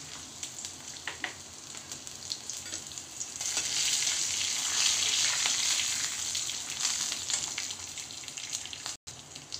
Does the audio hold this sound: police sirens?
no